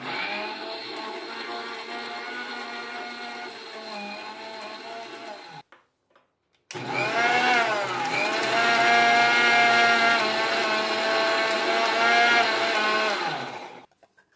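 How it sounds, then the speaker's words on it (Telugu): Mixer grinder whirring loudly as it blends mango leaves with water into a paste, running in two bursts separated by a brief pause, with the pitch dipping as the second burst starts under load. "కొంచెం మిక్సీ చేసి వాటర్ యాడ్ చేద్దామా?"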